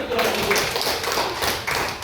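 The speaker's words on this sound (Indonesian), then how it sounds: "tepuk tangan ya dulu" Classroom applause during a teaching session in Asmat, South Papua, Indonesia: a dense, steady patter of many hands clapping that lasts about two seconds at fairly even loudness.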